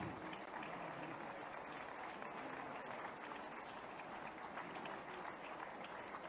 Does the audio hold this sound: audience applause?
yes